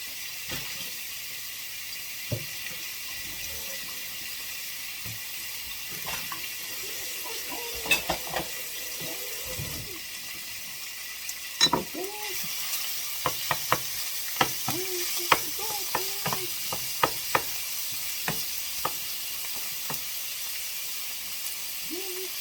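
Thin steak strips for a Philly cheesesteak sizzle in hot oil with a steady bright hiss, broken by scattered pops and the clatter of stirring.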